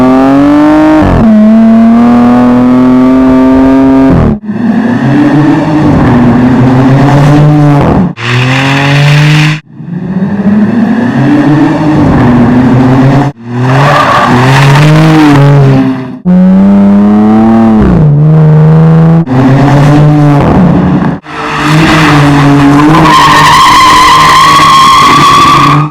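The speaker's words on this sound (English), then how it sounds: "the Scat Pack has a performance-tuned active exhaust with a dual mode with electronically controlled valves" A 2026 Dodge Charger Scat Pack's active exhaust with electronically controlled valves revs hard in repeated bursts, its loud exhaust note climbing and dropping, with short gaps between each run.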